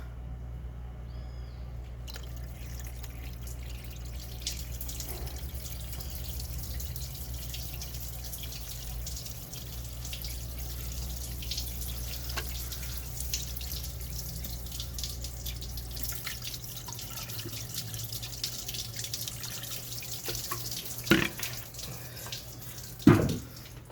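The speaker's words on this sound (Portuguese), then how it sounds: "tô jogando água aqui para tirar toda a sujeira do bloco" Running water rinses debris and metal filings out of a Citroen C3 engine block, a steady close splashing flow like a tap with a low hum underneath and a few louder knocks near the end.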